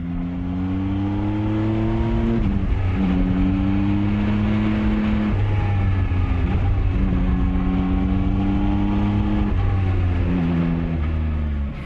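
A Yamaha XSR 900 motorcycle engine, ridden in Gran Canaria, revs and pulls through the gears with a loud, steady growl, rising and dropping in several strong surges and holding close throughout.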